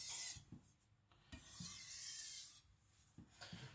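A Tojiro white steel shirogami nakiri knife is stroked across a whetstone in a slow, rhythmic rasping back and forth, quiet and close, with no voices.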